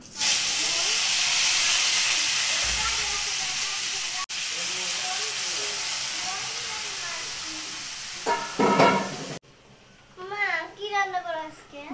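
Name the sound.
potatoes sizzling in hot oil for egg curry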